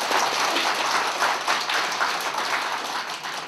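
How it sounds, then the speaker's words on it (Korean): An audience at an academic veterans' affairs seminar claps in agreement, producing a dense, even patter of applause that holds steady throughout. "여러분들 동의하시면 박수로서."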